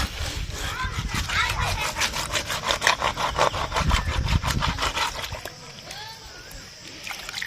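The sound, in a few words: rubbing cleaned korramenu fish on a rough stone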